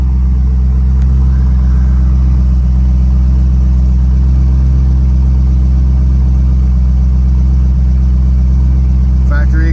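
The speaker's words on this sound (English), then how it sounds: "Factory exhaust, so it's not loud, but it's got a nice rumble to it." A 1968 Shelby GT350 V8 with factory exhaust idles with a steady, deep low rumble, moderately loud and constant throughout, with no talking over it.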